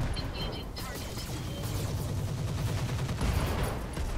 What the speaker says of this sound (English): We'll just fire everything on him.